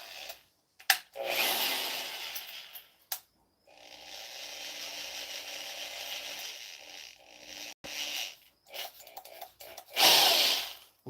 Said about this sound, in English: going to take a little stab at it with this drill bit here